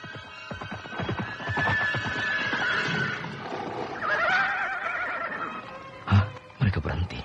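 Horses neigh and whinny amid the spoken narration of an Indonesian audio drama, with sharp louder bursts near the end that may be hoofbeats or sound effects.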